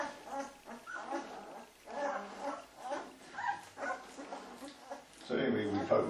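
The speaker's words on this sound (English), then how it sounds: "we're picking up the puppy" A Berger Blanc Suisse puppy whimpers and yips while being picked up, thin high cries mixed with people talking close by, ending in a louder burst of handling noise.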